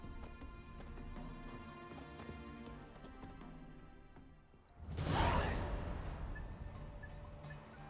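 Horses gallop in a race in The Witcher 3, steady hoofbeats running under game music. A loud rushing whoosh surges partway through and then trails into continued movement noise.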